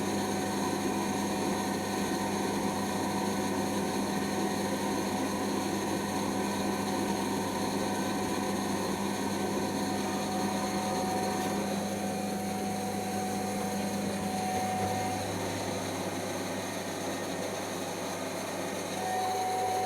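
A clothes dryer runs and shakes with a continuous low rumble and steady mechanical drone, close and unbroken for the whole stretch, with no talking.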